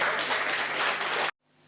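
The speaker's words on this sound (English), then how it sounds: "let us give him a warm round of applause." Audience applause at an African Day lifestyle festival, a dense burst of clapping that stops abruptly after about a second and a quarter, leaving near silence.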